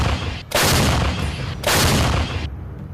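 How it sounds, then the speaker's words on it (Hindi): Heavy US-supplied artillery guns firing in the Russia–Ukraine war: two loud, sharp blasts about a second apart, each followed by a rumbling roll of echo, with no talk. "इसमें बहुत ही सटीक माने जाने वाले तोप का इस्तेमाल हो रहा है जो उसे अमेरिका से मिली हैं।"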